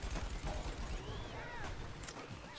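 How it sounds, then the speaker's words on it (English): Fireworks in the shooter game Plants vs Zombies Garden Warfare 2 crackle and pop in dense, rapid bursts with whistling streaks rising through the mix, steady and loud throughout. "There's fireworks going off everywhere."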